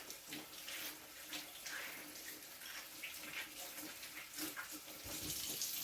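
Corn cobs are washed under a running kitchen tap, a steady close hiss of flowing water with brief splashes and clatter as the ears are handled, continuing throughout with no talk.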